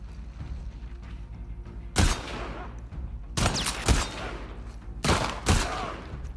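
Gunfire in The Last of Us Part II: three loud bursts of rapid shots with sharp attacks, separated by short pauses over a low game ambience.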